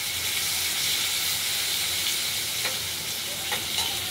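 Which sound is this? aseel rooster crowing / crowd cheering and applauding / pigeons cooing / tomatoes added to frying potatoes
tomatoes added to frying potatoes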